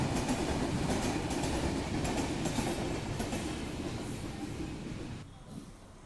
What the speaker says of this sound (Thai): ระหว่างรอก็นั่งดูรถไฟวิ่งผ่านไปเรื่อย ๆ